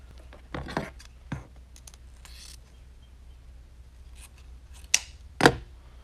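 Scissors snip through a large ribbon bow for a yellow floral grapevine wreath, a few soft handling noises followed by two sharp, close cuts.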